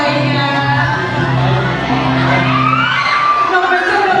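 High school students shout and cheer as a crowd at a school anniversary celebration, a loud, continuous roar of young voices filling the space throughout.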